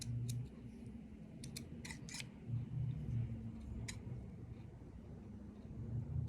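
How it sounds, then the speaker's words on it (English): Scissors trim a piece of felt for a bird bookmark craft, making a few quiet, close snips in short clusters over a low background hum. "So let me trim right here."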